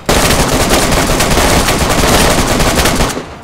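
Dense, continuous automatic gunfire in the survival video game DayZ, loud and close, sustained rapid bursts filling the whole stretch with no talking.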